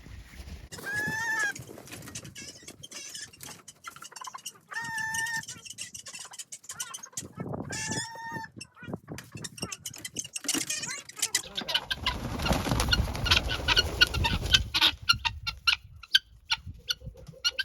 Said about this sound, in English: I'm gonna see if I can chase these guinea fowl out